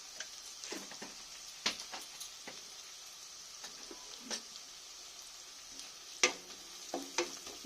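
Red lentils and greens with turmeric being stirred in a pan: faint, scattered spoon scrapes and taps over a soft, steady sizzle, quiet and close, with no talking.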